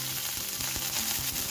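Mustard seeds and curry leaves sizzle in hot sesame oil for a tempering, a close, steady hiss with quick crackling pops and no talk.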